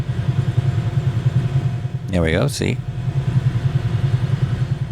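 A Bell 222B helicopter in Microsoft Flight Simulator spools up its second engine, giving a steady droning hum with a mechanical pulse that runs through the whole stretch, while someone speaks briefly over it.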